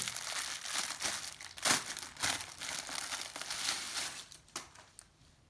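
Plastic packaging crinkles and tears as a Xiaomi Deerma spray mop pad is unwrapped, with loud close crumpling in bursts and a few sharp rustles fading toward the end.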